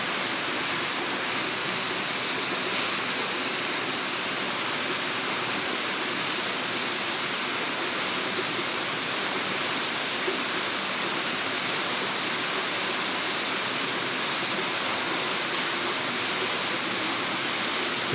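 Small waterfall in a gorge near Bled, Slovenia, a steady, even roar of falling water that holds unchanged throughout, close and fairly loud with no other sounds.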